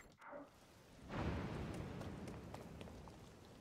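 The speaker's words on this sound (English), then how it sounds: "Why is it always raining?" Rain falls during a storm in the video game The Legend of Zelda: Tears of the Kingdom, a steady hiss that swells after a brief muffled thud and then continues at a soft, even level.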